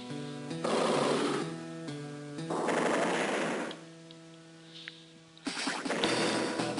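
In the Advance Wars video game, missiles attack a fighter with loud bursts of rapid, rattling mechanical fire. The bursts come in several clusters separated by short pauses, with no talking.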